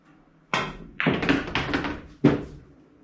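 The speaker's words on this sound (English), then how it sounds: "That shot, I accidentally drew the cue ball back slightly" A pool cue strikes the cue ball for a stop shot during a practice drill on a pool table: a few close, sharp knocks and clacks in quick succession, each followed by a short dull rolling thud, no voices.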